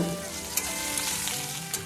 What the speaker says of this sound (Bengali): ভেজে নেওয়ার পর ওই কড়াইতে আরও একটু তেল দিয়ে বেগুনগুলিকে আমি আবারও একটু ভেজে নেব